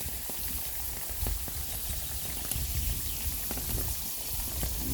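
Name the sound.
carrots frying in oil in pan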